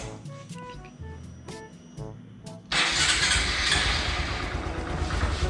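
A Honda MSX motorcycle is started: a few faint clicks and beeps come first, then the engine catches about halfway through and settles into a loud, steady running rumble close by.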